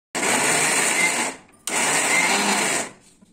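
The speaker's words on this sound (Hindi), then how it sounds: "अब इसे मैं ग्राइंड करूँगी।" A mixer grinder grinds chhena pieces for a sweet in two loud, steady motor bursts, each about a second long, separated by a brief pause, then it falls quiet.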